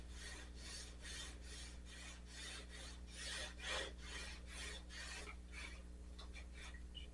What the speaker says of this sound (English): We're going to do this with 600 grit first.